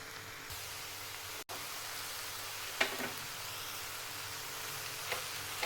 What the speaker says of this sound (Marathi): कैरी टाकायची आहे खिसलेली, मिक्स करून घ्यायचं आहे